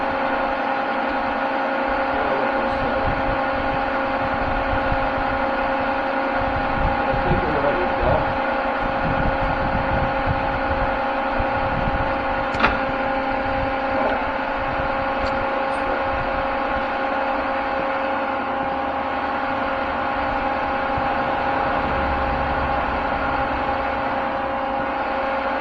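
A large Cincinnati E1 machine with a clutch spins up, holding a steady mechanical hum with sustained tonal whine lines and a faint rumble, with no talking.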